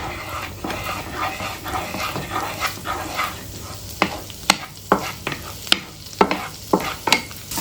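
Garlic fries in butter in a pan with a soft sizzle beneath a run of sharp, close clacks from a utensil stirring and tapping against the pan in the second half.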